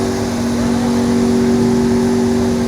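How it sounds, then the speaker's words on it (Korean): Mercedes-AMG One hypercar, its track mode engaged with active wing deployed and vents open, drives in under a loud, steady engine drone that holds its tone without letup throughout. "드디어 와이프가 싫어하는 AMG 1이 들어오고 있습니다"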